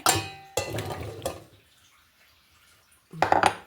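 Water pours into a heated pot while white pumpkin sambar is being made, giving a bright splashing sizzle in two close bursts, then a quiet gap and a short final burst with a light metallic clink.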